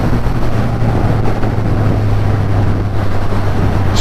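Triumph Rocket 3 R motorcycle pulling hard in third gear, a loud, continuous low engine roar heavily mixed with wind buffeting the microphone, steady with no pauses.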